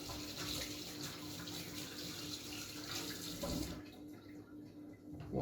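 Tap water runs steadily into a sink as hands are washed under the stream, a close, even splashing that cuts off partway and then briefly resumes.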